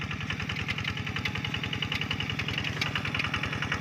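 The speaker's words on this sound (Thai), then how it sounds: "รถไถนาเดินตามนะครับหรือว่ารถดีแท็กนะครับ" A small Kubota RT110 Plus 11-horsepower walk-behind tractor engine chugs steadily up close, a fast, even single-cylinder thumping with a rattling, knocking edge.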